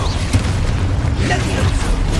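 Spell blasts from the video game Hogwarts Legacy go off as continuous deep booms and bursts, loud and dense throughout, with a voice shouting over the rumbling explosions.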